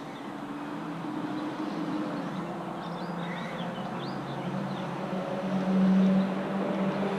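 Steady broadband hum of traffic on a nearby highway, continuous and moderately loud, swelling slightly near the end, with faint chirps of birds above it and no speech.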